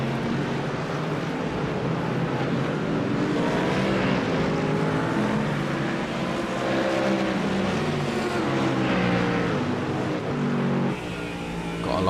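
GT3 race cars lapping Road America in the iRacing sim make a loud, continuous engine drone, with several overlapping engine tones rising and falling as cars pass through lapped traffic, and no talk.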